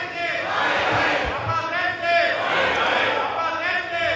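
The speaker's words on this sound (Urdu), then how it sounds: "نعرے بازی نہ کی جائے" Crowd of lawmakers chanting slogans in unison during a parliament joint session, a loud, continuous roar of voices with rhythmic surges throughout.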